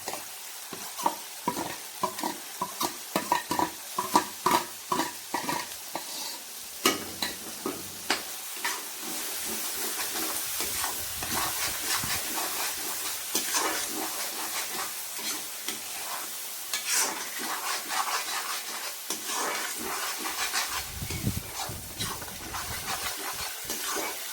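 Ground shallots and tomato hit hot oil with ginger-garlic and chili paste for a quail curry, opening with close scraping stirs, then settling into a steady loud sizzle with occasional stirring, no talk.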